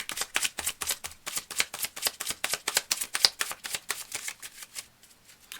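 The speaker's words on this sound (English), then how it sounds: "I need to just shuffle it up." Tarot cards being shuffled by hand: a quick, regular run of crisp riffling snaps, close and fairly loud, that slows and thins out in the last second.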